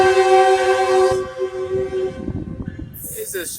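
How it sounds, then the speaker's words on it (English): A train horn blares steadily for about a second, then gives way to the rumble and clatter of a small train rolling past close by. "It's a very small train"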